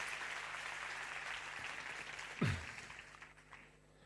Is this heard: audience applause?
yes